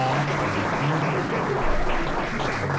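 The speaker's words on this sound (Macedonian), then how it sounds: "аплауз само давите и кој се чувствува така" Audience at a live show breaks into applause, a continuous, dense patter of many hands clapping at full strength throughout.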